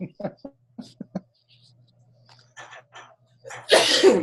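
Soft speech-like murmurs and breaths lead into a sudden, loud, harsh burst at the end, like a sharp cough or sneeze.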